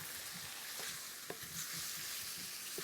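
Curry leaves being stirred into a simmering chicken curry: a soft, continuous sizzle with faint spoon scrapes and a couple of brief clinks, steady and close throughout.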